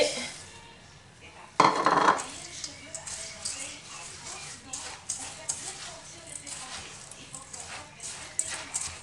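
A chocolate mixture with crushed biscuits is stirred in a bowl. A sharp utensil clatter comes first, then a series of scraping and tapping stirring strokes, close up, with a voice talking over it.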